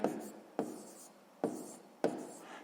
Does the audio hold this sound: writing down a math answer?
yes